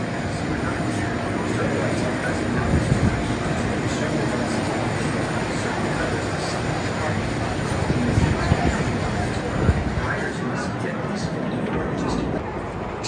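Nitro roller coaster train at Great Adventure amusement park, a constant loud roaring rumble with rattling wheels and wind noise, with a voice talking faintly under the din.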